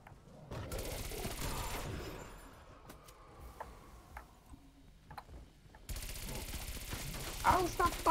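Faint, scattered gunshots ring out in a zombie shooter game, a few sharp cracks spaced apart over a low, quiet background, with a brief stretch of voice.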